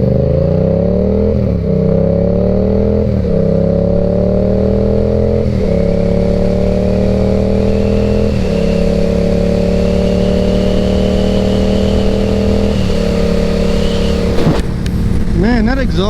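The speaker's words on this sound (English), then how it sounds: "that exhaust sounds so good" Yamaha R7 supersport motorcycle exhaust, a loud near engine drone climbing through the gears with a repeated rise, dip and rise as each shift lands, then a sudden change near the end as wind buffets the microphone.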